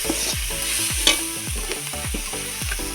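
Banana flower with salt and spices stirred in a frying pan for mochar chop, a loud close sizzle with regular scraping strokes of the spatula, without speech.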